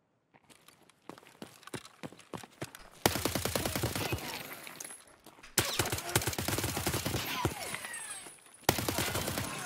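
Gunfire from a weapon in the video game Escape from Tarkov: a few scattered single shots, then loud, close, sustained automatic bursts with brief pauses between them.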